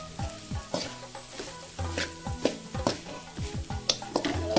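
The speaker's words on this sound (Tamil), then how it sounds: "ஓட்டிக்குங்க ஒரு அஞ்சு நிமிஷம் ஓட்டினா போது" Egg fried rice being stir-fried in a pan, restaurant style, with close rhythmic spatula clanks and scrapes over a continuous sizzle, and no speech.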